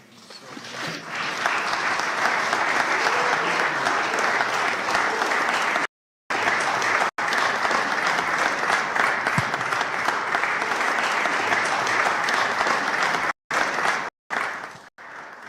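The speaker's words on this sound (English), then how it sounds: "Give her a wonderful hand clap." Sustained audience applause at an interfaith conference: broad, dense clapping from a large crowd that holds steady for over a dozen seconds, broken by a few abrupt silent gaps before tapering off.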